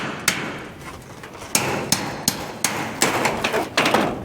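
A hammer strikes repeatedly at a storm-damaged shed, a string of sharp close impacts coming irregularly and then faster, with quiet rustling in between.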